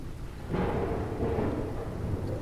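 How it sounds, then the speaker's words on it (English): Rain pelts against a boat in a storm, a steady wash of heavy rainfall with a deep rumble of thunder rolling in about half a second in and holding through to the end. "the pelting of rain against the boat"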